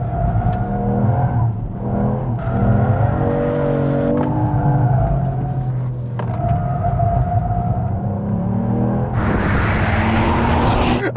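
Ford Puma ST driven hard at speed on winter tyres, engine droning loud and close with rising revs, tyre noise and a sharp hiss of skidding near the end, no voices.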